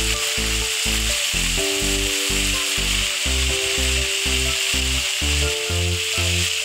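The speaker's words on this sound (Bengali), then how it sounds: "এই যে তেল গরম হয়ে গেছে, এবার আমি ছেড়ে দিলাম ফুলকপি" Cauliflower dropped into hot oil with ginger, cumin, dried and green chillies and onion, giving a loud, steady sizzle with a pulsing low tone beneath it.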